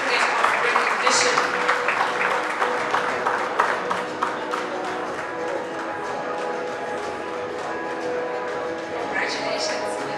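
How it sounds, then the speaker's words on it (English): Banquet guests at an annual CEO round table award ceremony give a sustained round of applause, a dense steady clatter of many hands lasting throughout, with tonal background music or hum running underneath. "Please give him a round of applause as he comes up to accept his certificate of recognition"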